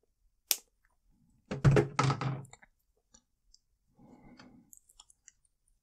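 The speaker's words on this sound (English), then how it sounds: "grab your cutters and trim off the tail." Jewelry wire cutters trim the wire tail after loops are made for Christmas ornament earrings, giving one sharp, close snip near the start, followed by a louder burst of clattering handling and later soft rustling, with no talking.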